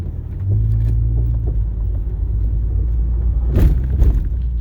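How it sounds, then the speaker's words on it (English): A car approaches on a private road, heard from inside a 2012 Mitsubishi Lancer SE AWD cruising in second gear; a steady low rumble holds throughout, with a brief louder swell near the end as the other vehicle nears. "There's a car coming."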